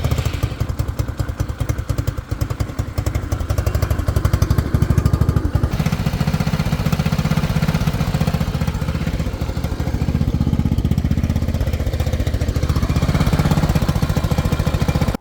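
A Motobravo Roma 150cc scooter engine runs steadily and fairly loud, a chugging, rattling idle with a rhythmic low pulse throughout, the revs rising briefly near the start before settling into a continuous drone.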